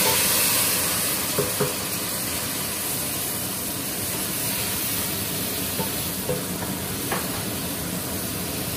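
Onion and ground spices fry in a pan with a little water added, giving a steady, loud hiss and sizzle that runs unbroken throughout with no talking.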